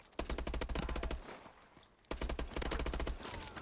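Gunfire erupts in a Call of Duty: Advanced Warfare gunfight. Two bursts of rapid automatic fire crackle loudly, split by a short quieter gap.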